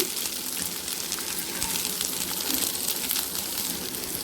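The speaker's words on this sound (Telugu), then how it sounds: "కట్ చేసి పెట్టుకున్న ఒక ఫుల్ క్యాప్సికమ్ని కూడా యాడ్ చేయండి దీంతో పాటు. ఇవి మొత్తం వేయించుకోవడమే." Chopped capsicum fries in a pan with a steady, close, dense sizzle that holds throughout, with a few faint stirring sounds and no talking.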